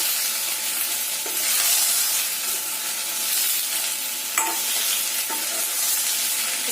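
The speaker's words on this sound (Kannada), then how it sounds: "ಇದಕ್ಕೆ ಟೊಮೊಟೊನ ಆಡ್ ಮಾಡ್ತಾ ಇದ್ದೀನಿ. ಇದನ್ನು ಹಾಕೊಂಡು ಚೆನ್ನಾಗಿ ಫ್ರೈ ಮಾಡೋಣ" Chopped tomato and onion fry in a pan with a steady, close broadband sizzle, broken by occasional spoon scrapes and light clinks against the metal.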